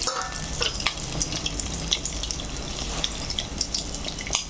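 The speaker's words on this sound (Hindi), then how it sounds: "दोनों साइड से मैं फ्राई करूँगी" Tomato cutlets fry in a pan over a medium flame, giving a steady, even sizzle throughout with occasional faint pops and crackles.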